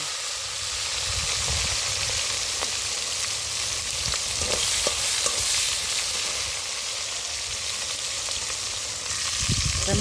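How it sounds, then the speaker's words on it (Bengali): Chopped tomatoes fry in hot oil with a loud, steady, close sizzle and hiss, broken by occasional stirring clicks and pops throughout. "তো দেখো তেলের মধ্যে টমেটোগুলো দিয়ে দিলাম।"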